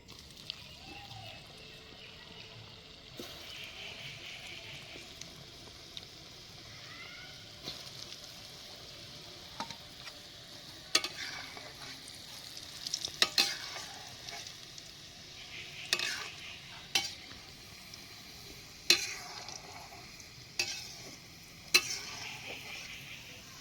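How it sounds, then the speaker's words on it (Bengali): Homemade French fries frying in hot oil, a low steady sizzle broken by repeated sharp clicks and clatters of a utensil against the pan, with faint murmurs in the background. "বন্ধুরা সবগুলো আমি একইভাবে ভেজে নেব।"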